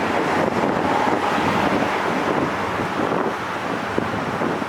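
Strong, cold outdoor wind at about zero degrees roars steadily and loudly across the microphone in a Northwest Ohio park, a continuous buffeting rush with no talk.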